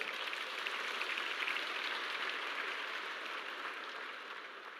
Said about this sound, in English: this deserves certainly a round of applause for their hard work